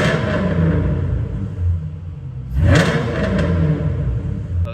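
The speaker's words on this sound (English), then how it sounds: "So here are a few revs." A 2010 Ford Mustang engine idles with a low rumble, then briefly revs up once to around 4,000 RPM before settling back to a steady idle.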